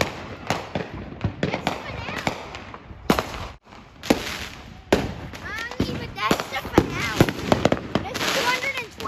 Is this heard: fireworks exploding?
yes